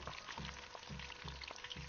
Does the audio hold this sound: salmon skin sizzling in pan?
yes